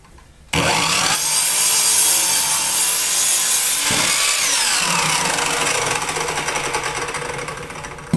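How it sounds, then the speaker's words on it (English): Bandsaw cutting through a wooden name plaque blank, a loud continuous whining, rasping cut that starts abruptly and runs steadily, with the pitch shifting as the blade moves through the wood, no talking. "I'm just going to free the separate names up so I can cut them on the bandsaw."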